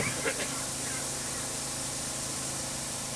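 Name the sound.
crop sprayer nozzles spraying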